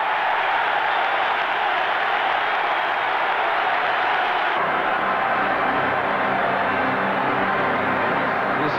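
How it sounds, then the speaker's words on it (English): A hockey arena crowd at a 1988 Chicago Blackhawks versus New York Rangers game roars in a steady, loud, unbroken wash of cheering that shifts slightly in tone partway through. "Listen to the crowd."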